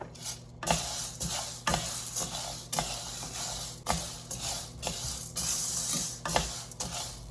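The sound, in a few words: moong dal and urad dal dry-roasting together in a pan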